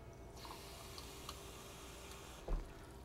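Water runs steadily into a pot as two cups are measured for cooking rice, a soft continuous pour with a brief louder splash near the end.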